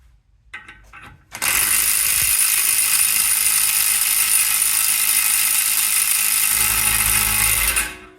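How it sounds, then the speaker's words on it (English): Close and loud, a ratchet with a socket turns on a Range Rover Evoque transfer box, a steady rapid clicking that runs for several seconds after a few quieter knocks. "That swinging on it with a socket is not going to be the best idea."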